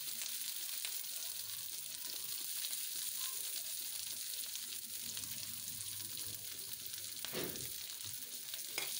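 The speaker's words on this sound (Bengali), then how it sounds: "এখন একটু সরিষার তেল দিয়ে এগুলোকে ভেজে নেব।" Garlic fries in a small amount of mustard oil, a continuous soft sizzle and crackle with occasional stirring, faint and steady throughout with no voices.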